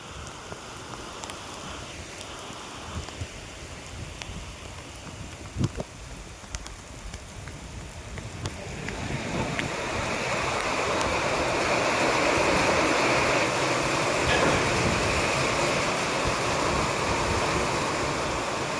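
Heavy rain pouring steadily, a dense broadband roar that grows louder and fuller partway through, with no talking.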